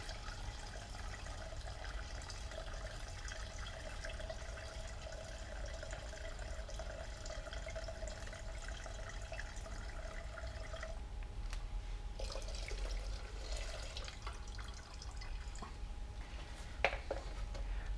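Liquid drains out of a modified fuel pump housing for a Renault Megane RS275, a quiet steady trickle and drip running alone, with a few brief knocks near the end.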